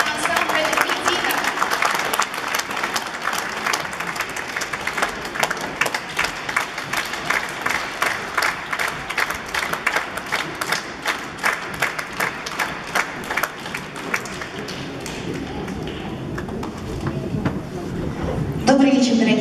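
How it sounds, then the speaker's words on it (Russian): An audience applauds to welcome the ensemble Medina, sustained dense clapping that carries on for many seconds before tapering off near the end. "мы будем встречать аплодисментами. Встречаем ансамбль «Медина»."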